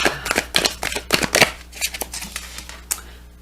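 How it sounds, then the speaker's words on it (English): Crisp, rapid riffling of a deck of tarot cards being shuffled, a quick burst of flutters up close followed by softer, scattered card slaps. "I'm going to shuffle one more time"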